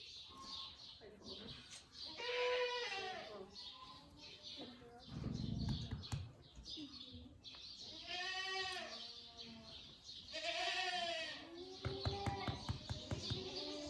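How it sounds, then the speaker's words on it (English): Goats bleat repeatedly on a farm during morning chores, with several wavering calls close by, spaced across the scene over a steady background of farm noise, with young kids among the herd. "you can just come to the farm and sit with goats"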